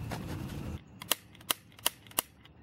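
A potato cannon fires after a rushing burst at the start, then four sharp, crisp clicks come at a steady pace, each a quick snap heard up close.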